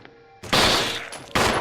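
Handgun fire in the Resident Evil game, two loud sharp shots some distance apart, each with a long ringing tail, heard on their own.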